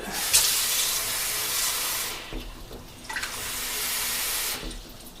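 Water poured from a tap into cornstarch in a home kitchen: a steady close-up hissing stream with two short breaks where the flow pauses and then resumes, with no talking.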